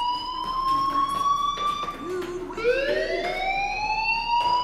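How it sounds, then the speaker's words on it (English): A fire alarm wails in Life Is Strange, a loud steady electronic siren with rising and falling tones that repeats throughout without pause. "do you hear that fire alarm?"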